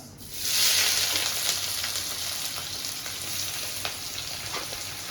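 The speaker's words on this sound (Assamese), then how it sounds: "এইফালে আমাৰ পিঁয়াজটো হৈ আছে অলপ ৰঙা নোহোৱালৈকে ভাজিব লাগিব পিঁয়াজটো ধুনীয়াকৈ" Onions fry in hot oil with whole cloves, cardamom and cinnamon, giving a loud, continuous sizzle that swells at the start and then holds steady, close and with no talking.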